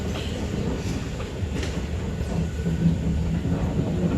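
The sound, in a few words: LRT light rail train in Kuala Lumpur, Malaysia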